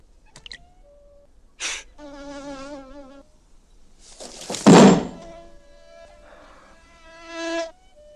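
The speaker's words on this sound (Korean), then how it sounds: "오랜만에 먹잇감을 발견한 파리가 귀찮게 하는데요" A pesky fly in a scene from a western film buzzes in intermittent close passes, its droning wingbeat rising and fading, with a sharp thunk near the middle breaking the otherwise quiet lull.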